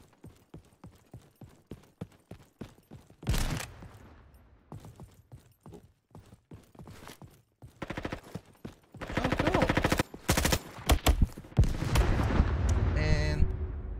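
Gunfire in the Roblox Frontlines shooter on PC: rapid, evenly spaced shots at first, then denser overlapping automatic bursts that build louder toward the end.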